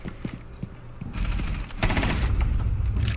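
Rapid gunfire in a first-person shooter video game, a few sparse shots followed by a loud sustained burst of automatic fire, close and dominant, no talk.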